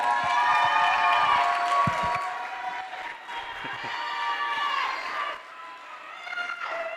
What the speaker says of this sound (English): please clap it up for Bryant Torres